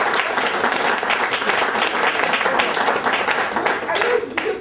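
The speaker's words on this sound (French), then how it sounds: "je crois qu'on peut lui faire aussi quelques applaudissements." An audience at an evening cultural event in Paris breaks into steady, dense applause, many hands clapping continuously for several seconds before it begins to thin out at the end.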